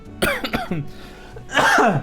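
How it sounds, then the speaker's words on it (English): A close, dry cough from a person with a cold, in a quick burst of two or three hacks, a short pause, then another harsher cough. "I'm like halfway through a cold and the tickle of this cough"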